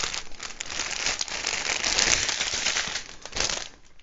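Continuous crinkling and rustling of diamond painting kit plastic packaging being handled and torn open, close and fairly loud, with no voices.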